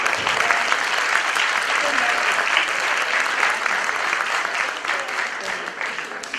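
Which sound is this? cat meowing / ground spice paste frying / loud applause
loud applause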